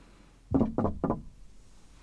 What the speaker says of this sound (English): Who's knocking on the door at this hour?